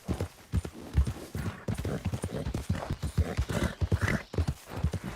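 Horse hooves clip-clop steadily in Red Dead Redemption 2, a close, rhythmic run of hoofbeats from a staggering, drunk horse, heard alone without talk.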